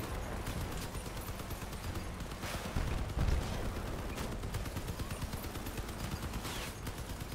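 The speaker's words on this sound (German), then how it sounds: "Doch, der schießt noch." Gunfire from a combat vehicle in the video game Crossout rattles in rapid, continuous bursts at a moderate distance, with a heavier thump near three seconds, over a constant mechanical rumble.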